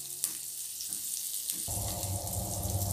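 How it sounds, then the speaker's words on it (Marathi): Surmai fish frying in an uncovered pan over a medium flame. A soft, close sizzle with a few light clicks swells into a fuller, steady crackle partway through. "मीडियम फ्लेमवर आपल्याला हे फिश फ्राय करायची आहे"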